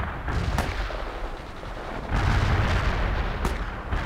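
Grenade launches and gunfire in the video game World in Conflict crack and thump through a rumbling battle, with a few sharp reports standing out over heavy low booms, loud and close, with no talk.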